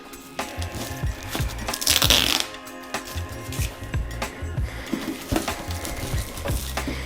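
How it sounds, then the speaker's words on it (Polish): Crackly, ripping adhesive tape noises come in repeated short bursts and tearing strips as tape is peeled off while building a home computer server, close and fairly busy, with no talking. "te dźwięki taśmy postaram się wyciszyć"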